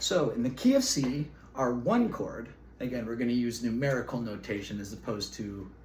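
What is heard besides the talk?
None of the usual background noises is heard.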